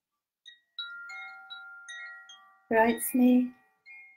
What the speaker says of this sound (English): I'll just sit here for a moment then and play one of my Koshi wind chimes